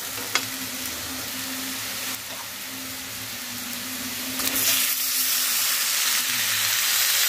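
Onion masala sautéing in a pan for stuffed brinjal, a continuous close hiss and sizzle that swells louder toward the end, with occasional utensil scrapes and no voices.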